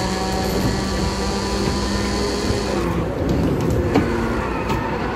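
Car engine revving hard and steady while drifting in Forza Horizon 5, loud and continuous with a tonal drone, easing in pitch partway through, no talk over it.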